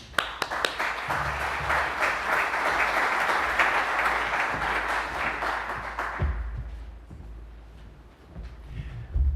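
An audience at a farming conference event breaks into sustained applause for about six seconds, a dense wash of many hands clapping, then fades into quieter room noise with a few scattered claps and shuffles.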